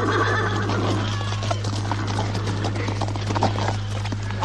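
A horse at a farrier's shop clip-clops with its hooves and gives a whinnying neigh, close by and moderately loud over a low, steady hum.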